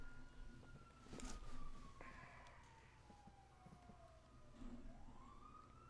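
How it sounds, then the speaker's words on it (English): A police siren in GTA5 wails with long sweeping tones that slide down and then rise again, fairly loud over faint background game noise. "Turn your daggone siren off, man."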